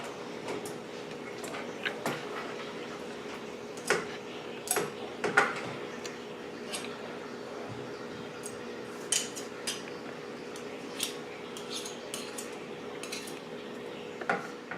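A spoon clinks and scrapes against a metal double boiler while shea butter and coconut oil are stirred together to melt, giving a steady run of light, irregular taps and knocks with no talking.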